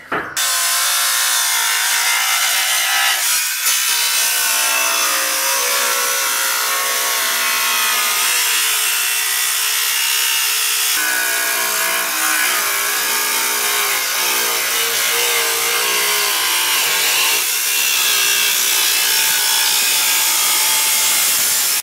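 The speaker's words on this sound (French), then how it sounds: "Donc je vais nettoyer cette partie pour ensuite la découper à la meuleuse." A loud, harsh angle grinder cuts a 1000-litre plastic water tank continuously for a long stretch, close up, with a rasping high-pitched whine and shifting pressure.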